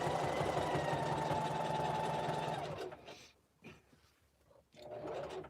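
A sewing machine stitches a jelly roll fabric rug in a steady, fast whir for about three seconds, then stops, leaving a few faint clicks and handling noises before a brief restart.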